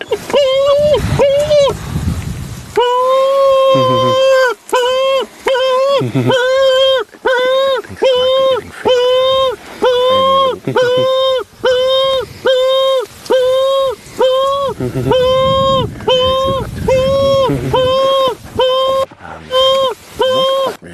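Southern ground hornbill calling, a long series of deep, booming hoots repeated in a steady rhythm, each note short and resonant, with brief breaks between calls.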